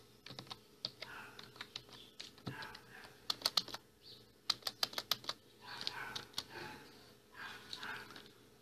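Computer keyboard keys tapped in quick irregular bursts while entering a password, close and fairly faint, with soft breathing between clusters of clicks.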